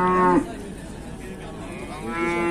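A pregnant cow at a livestock market in Beylagan, Azerbaijan lows loudly and close by, one moo breaking off early and another deep moo rising near the end.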